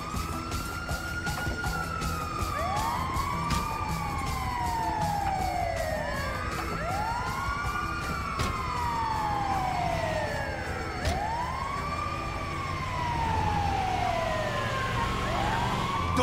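A wailing ambulance siren from GTA 5 sweeps up and down in repeated cycles, loud and steady, with a faint rhythmic clicking running underneath and no talk over it.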